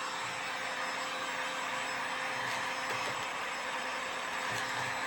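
Heat gun blowing steadily while shrink wrapping a gift, a continuous loud hiss-like airflow roar with a faint whine, held without break throughout and no talking.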